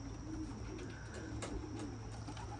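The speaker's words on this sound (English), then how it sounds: "Having the birds out. They're coming down one by one." Young racing pigeons coo near their loft during loft flying, a steady, continuous low cooing that carries on without pause and with no talk over it.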